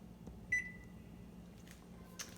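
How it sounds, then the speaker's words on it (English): Oven control being set to preheat to 350: a single clear electronic beep, a couple of faint button clicks after it and another short tone at the end, over a quiet room hum. "I'm going to preheat this oven to 350"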